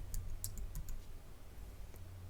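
A computer mouse clicks quietly in close, separate pairs of double clicks while layers are named in Cricut Design Space, then goes briefly silent before a final click.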